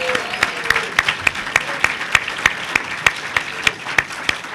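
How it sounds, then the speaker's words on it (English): An audience at a business school event at California State University, Long Beach applauds steadily, with sharp regular claps standing out over the crowd's clapping, loud and close, while a voice talks briefly underneath. "Give him a big round of applause."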